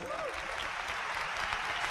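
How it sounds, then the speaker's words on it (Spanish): Applause for a couple at an Amway convention talk, a dense steady crowd clapping filling the whole stretch at moderate level, with a faint voice briefly underneath. "para quienes pido un fuertísimo aplauso"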